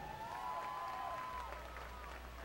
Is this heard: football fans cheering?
yes